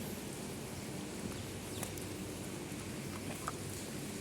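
Steady rain hisses softly on surfaces, a continuous faint wash with occasional sharper drips standing out.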